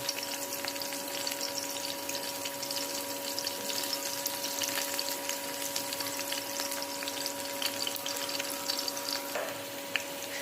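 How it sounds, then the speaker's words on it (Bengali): Dried chilli, onion and garlic, with nigella seeds, frying in hot oil as a tempering, giving a steady, close sizzle that holds evenly throughout. "একটা শুকনো লঙ্কা আর একটুখানি পেঁয়াজ রসুন তেলের মধ্যে আমি ফোড়ন দিয়ে দিলাম।"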